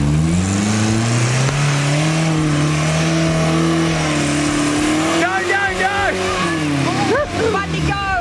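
A 4WD called Bundy revving hard off-road on the Old Telegraph track in Cape York, its engine note loud and close, climbing and falling in pitch, with voices joining over the later revs.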